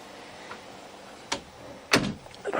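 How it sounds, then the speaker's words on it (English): Door in an old hall being pushed shut, a few sharp knocks and thuds with the final closing bang near the end, close by in a quiet room. "Right, I'm just going to shut the door."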